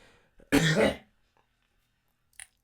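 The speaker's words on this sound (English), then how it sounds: "I'm gonna cough again" A single harsh cough or throat-clearing bursts out loudly up close, followed by silence and a faint click.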